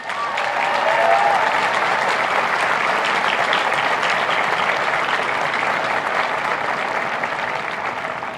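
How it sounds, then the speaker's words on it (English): A large audience at a University of Virginia graduation ceremony for Law, Darden and McIntire applauds faculty and staff, dense sustained clapping that holds steady for several seconds before slowly tapering. "Please join me in giving our faculty and staff a round of applause."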